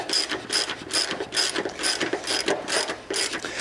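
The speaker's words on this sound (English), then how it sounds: "Now on this Allen, again, I'm tightening that one up completely." A ratchet tightens an Allen bolt on a studio desk, making a quick run of close, crisp metallic clicks in a regular rhythm, about two per second.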